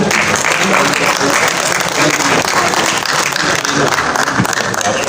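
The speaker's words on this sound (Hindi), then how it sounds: "तालियां प्लीज जी, बहुत सारी तालियां होनी चाहिए इन लोगों के लिए।" Loud, dense applause from an audience at an arts council award ceremony in Rawalpindi, sustained clapping from a large crowd throughout, with some indistinct voices mixed in.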